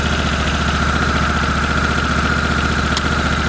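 A steady engine idles close by, a low rhythmic chugging with a constant hum, unbroken throughout.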